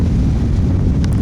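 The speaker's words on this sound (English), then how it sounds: "just too bad it's a little windy" Strong wind on Lake Mohave buffets the microphone in a loud, continuous low rumble, steady throughout with no other sounds breaking through.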